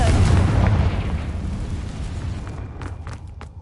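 A Confringo explosive spell goes off inside a cave in Hogwarts Legacy, a loud booming blast at the start that rumbles and fades away with scattered crackles afterward.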